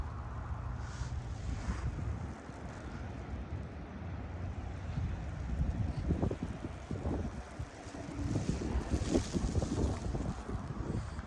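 Cold gusting wind during freezing rain at about minus six degrees in Saskatoon, a rough, blustery rush buffeting the microphone, swelling and easing over several seconds with no speech.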